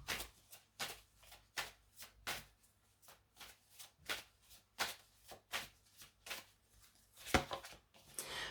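Angel cards being shuffled by hand in a quiet room, a steady run of soft riffling bursts about twice a second, close and clear with no talking.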